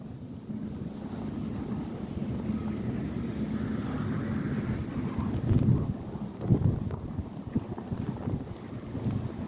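Strong wind roars steadily outside in a Boston snowstorm with drifting snow, a constant rushing buffet with a few louder gusts, no talking.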